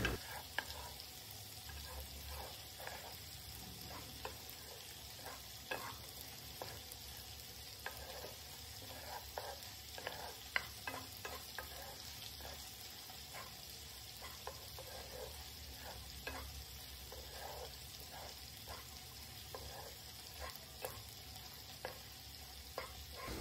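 Prawns with masala sizzle in ghee in a pan while a spoon stirs them, a steady frying hiss broken by irregular scraping strokes, with no one speaking.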